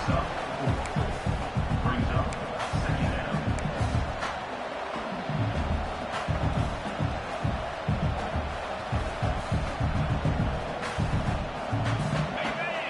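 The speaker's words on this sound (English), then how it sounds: "And the crowd coming to life here, trying to help this defense down in the red zone." A football video game's stadium crowd roars and cheers steadily as the defense holds in the red zone, a dense continuous wash of noise under a commentator's voice that talks throughout.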